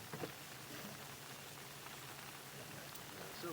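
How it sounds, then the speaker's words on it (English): Rain patters steadily on an umbrella outdoors during a home sewer-line inspection in Batavia, Ohio, a faint continuous drizzle of small taps with a few slightly louder drops. "you can hear the rain hitting the umbrella"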